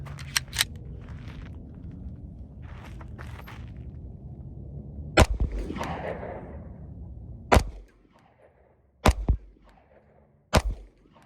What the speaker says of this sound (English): But I'm gonna continue shooting.